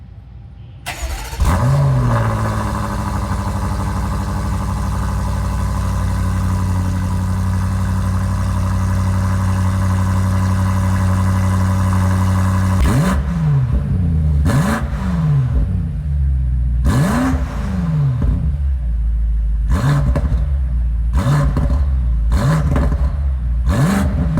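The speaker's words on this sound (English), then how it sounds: "we're going to do a startup on this car and check out what it sounds like" A 2021 BMW M8 with twin-turbo engine, recorded right beside the exhaust tips, fires up with a loud startup flare, settles into a steady rumbling idle, then delivers a series of sharp, repeated throttle blips and revs, each rising and falling quickly.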